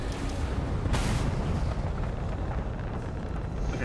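Torpedo blasts in the space game Starfield roll out as a loud, continuous rumbling roar with a sharp burst about a second in, sustained low booming filling the whole stretch.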